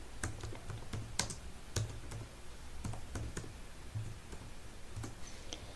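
A command is typed on a computer keyboard, a quiet run of close key clicks at an uneven rhythm with no voices.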